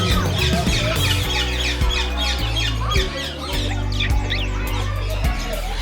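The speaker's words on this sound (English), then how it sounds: "Birds all over the place." Birds at Parotte Ville Bird Park in Philipsburg, Sint Maarten, squawking and clucking loudly and repeatedly, a busy chorus of harsh calls and chirps up close.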